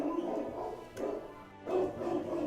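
Indoor dogs bark in a few muffled bow-wow bursts over a constant background hum, with no speech in between.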